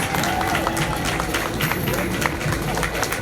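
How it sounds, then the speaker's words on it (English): Community gathering supporting an Indian police department, with steady applause from a crowd, moderately loud and continuous, mixed with some murmuring voices underneath. "Let's have a big round of applause and support Indian Police Department."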